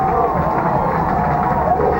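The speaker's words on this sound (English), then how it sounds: "And you can hear the crowd here at Tornado Alley" A crowd cheers at a high school football game at Tornado Alley, giving off a steady, loud roar of mixed voices with no breaks, filling the whole moment.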